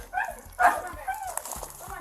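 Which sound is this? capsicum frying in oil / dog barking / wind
dog barking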